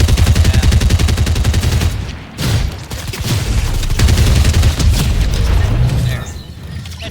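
Loud, dense gunfire in a shooter video game, booming shots and rapid bursts packed together with a brief lull midway, then continuing heavy fire over a busy game soundscape.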